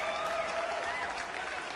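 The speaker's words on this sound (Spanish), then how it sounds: "Un aplauso para Raúl de Vigo, que está connosco." Studio audience applause on a Galician TV cooking show segment about homemade sweets, a brief, even wash of clapping from a crowd, moderately loud and steady throughout, with no voices over it.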